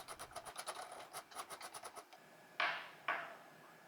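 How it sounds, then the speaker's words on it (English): Very fast rhythmic filing on a small metal gear case for a model tugboat gearbox, quick rasping strokes in a steady run that stops, followed by two louder scraping strokes, fairly quiet overall. "Wouldn't be a jellyfish video without a bunch of super fast filing, would it?"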